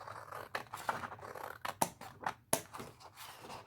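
Scissors snip through water slide decal paper in a series of close, crisp cuts with short scratchy rustles between them, no talking.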